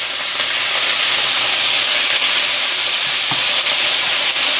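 Chili ingredients sizzle and fry in bacon grease, a loud, steady hiss of frying with faint stirring knocks, close up and continuous without any voice.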